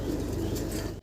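Spanish Damascene pigeons at a farm coo close by in a steady, continuous low rolling burble that carries through the whole second and cuts off at the end.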